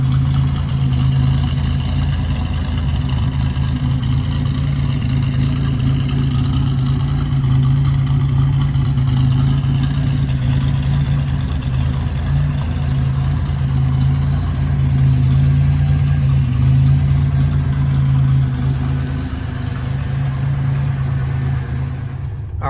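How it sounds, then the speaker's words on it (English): A turbocharged Buick Regal engine idles steadily while warming up, a loud, constant low rumble that runs unbroken and alone, with no voices over it. "let me go ahead and warm up the car"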